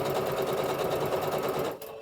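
A sewing machine runs steadily, stitching a backstitch on turban cap fabric, its fast even whir dense and close until it slows and cuts off near the end.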